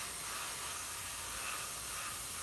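An airbrush sprays primer onto a plastic model kit, giving a continuous soft, airy hiss that stays even and unbroken throughout.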